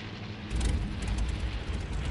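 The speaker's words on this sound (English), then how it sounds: "Airplanes." Steady, loud roar of an airplane engine in a video game, a continuous broadband rumble that swells slightly and holds without talk.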